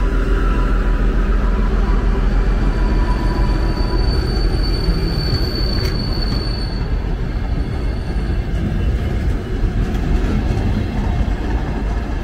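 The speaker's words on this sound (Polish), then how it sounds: "O, pociąg." An Intercity passenger train rumbles steadily past close by, loud and continuous, with faint wheel squeals rising over the clatter.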